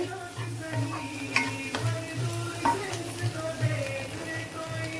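Egg fried rice stir-fried in a pan, with a continuous sizzle and repeated scraping clinks of a spatula against the pan.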